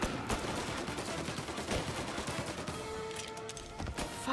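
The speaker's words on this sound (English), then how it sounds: "Someone has a Tommy gun." Tommy gun bursts in the Mafia: Definitive Edition video game, with dense, continuous rattling fire throughout that has distinct sharper cracks mixed in amid game ambience.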